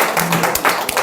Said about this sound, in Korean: 다시 한번 박수 한번 부탁드립니다.